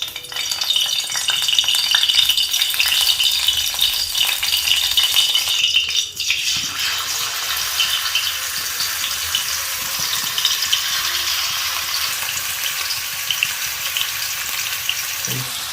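Curry leaves hit hot oil in a pan with a loud, dense crackling sizzle that bursts at first and then settles into a steady hiss, with light rattling, close up and no talking.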